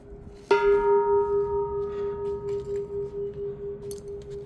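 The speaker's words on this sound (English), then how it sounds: "And also you've got this bell here" A temple bell on Koh Larn is struck once, hard, and its bright ringing tone sustains and slowly decays over a low background hum.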